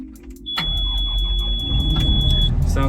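Construction machine engine starting up: a sharp electronic beep, then the engine catches and settles into a steady rumbling run close by.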